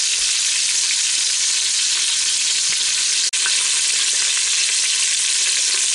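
Filet mignon steaks sear in an Instant Pot with a loud, dense, continuous sizzle, broken only by a brief dropout midway.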